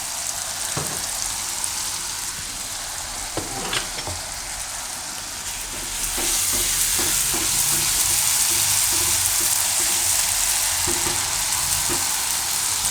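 Green garlic stirred in hot oil for Gujarati khandvi shaak gives a loud, continuous sizzle that swells about halfway through, with light spoon taps against the pan scattered over it and no voices.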